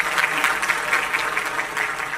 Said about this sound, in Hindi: जोरदार ताली हो जाए जरा प्लीज